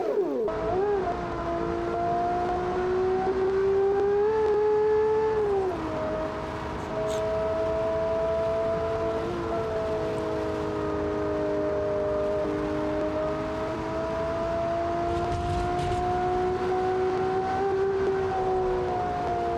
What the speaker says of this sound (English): Oh, the engine went bang bang.